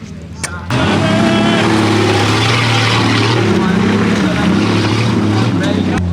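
Off-road vehicles with 2000 cc engines roar loudly at a Slovenian off-road event, a sudden burst of heavy, sustained engine noise that stays close and strong throughout, with voices mixed in.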